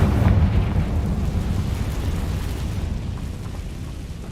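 The Confringo fire-blast spell cast in Hogwarts Legacy: a deep, roaring explosive burst that fills the low end, then a steady rumbling blast that slowly fades.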